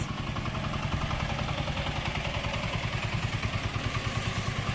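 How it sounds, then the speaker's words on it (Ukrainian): A motor vehicle on a road right beside a garden of ornamental shrubs, its engine a steady close rumble with a regular pulsing clatter, loud and continuous for the whole stretch. "Ой, так, їде тут у нас транспорт. Ну, біля дороги якраз."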